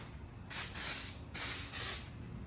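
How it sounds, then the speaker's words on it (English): Brake cleaner sprayed onto the axle of a 2014 Jeep JKU, two pairs of loud hissing aerosol bursts, each about half a second long, with a short pause between pairs and quiet before and after. "When you're doing this, just make sure you be careful not to get the brake cleaner onto the bearings"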